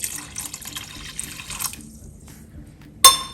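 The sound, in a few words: pouring cup of water into egg curry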